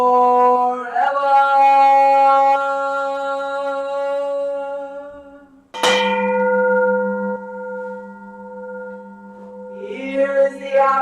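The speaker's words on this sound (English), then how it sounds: "Here is the after sound of the bell." A temple bell struck during a Zen Buddhist Sunday service rings out with a long, shimmering resonance that slowly fades, then a second strike at mid-clip blooms loudly and decays again, the tone sustaining alone without talk.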